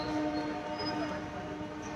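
A train at a railway station, a low rumbling hum with faint tonal whines and a distant horn-like note, steady and moderately quiet throughout, with no talk.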